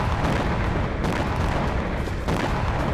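Continuous heavy rumbling blasts from drone strikes on Ukrainian military vehicles in the Kursk region, loud and dense, with sharper bursts around the one- and two-second marks and no talk.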